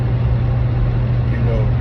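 Steady interior engine hum and road rumble of a moving car, low and continuous, with a person talking over it.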